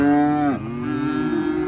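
A loud, long cow moo that dips in pitch midway, then continues as a sustained lowing call, close by and with no talking.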